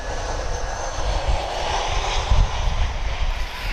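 An EasyJet airliner passes at Lisbon Airport as a steady, loud engine roar with a broad rumble that swells slightly midway, heard outdoors with no talking.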